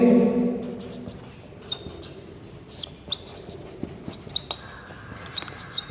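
Marker or chalk strokes on a board during a chemistry lesson, a series of short scratchy taps and squeaks at an uneven pace, close, as someone talks at the start.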